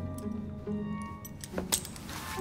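Keys jangle as they are handed over in Assassin's Creed Syndicate, a few light metallic clinks and rattles close by over a faint low background hum, no talking.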